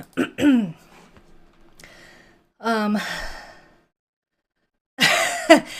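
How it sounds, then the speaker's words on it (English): Several short, rough bursts of coughing and throat clearing separated by pauses, close to the microphone, with a breathy sigh early on. "while I'm away coughing and getting water."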